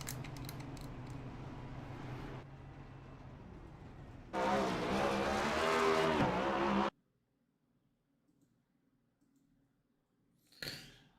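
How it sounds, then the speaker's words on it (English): The number 55 race car in iRacing does burnouts, its engine giving a loud, sustained roar with screeching tire noise that cuts off abruptly into near silence, followed by a short final burst. "As we watch that number 55 machine doing some burnouts."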